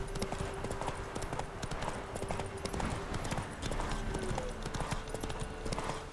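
Horse hooves clip-clop steadily at a gallop in The Witcher 3: Wild Hunt, a continuous rhythmic pounding close by with a brief whinny-like tone, running for several seconds without pause.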